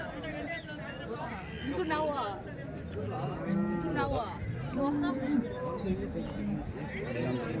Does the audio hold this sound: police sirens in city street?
no